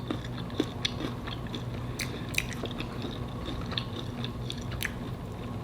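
Crunchy fried pork ribs are chewed close to the mic, with sharp, irregular crunches and bites spaced over a quiet, steady background.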